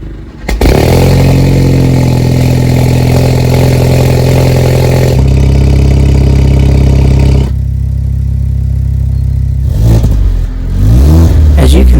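A loud, deep Alfa Romeo Giulia or Stelvio exhaust with valves open revs hard, holding a heavy roar, then dropping and surging again in sharp blips.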